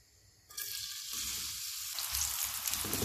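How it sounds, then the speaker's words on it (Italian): Chopped onion dropped into hot oil in a pan sets off a sudden, steady sizzle that crackles on loudly and evenly for a few seconds, with no talking. "Metto in padella un bel giro d'olio. Lo lascio scaldare qualche secondo e poi aggiungo la cipolla."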